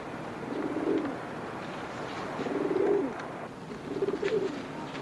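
Pigeons cooing nearby, three soft throaty coo phrases spaced a couple of seconds apart over quiet outdoor ambience.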